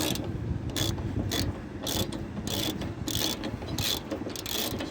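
A ratchet wrench with a 10 mm socket backs out the last screw holding the right front fender of a Nissan, giving a steady run of quick clicking strokes, close and fairly loud, with no talk.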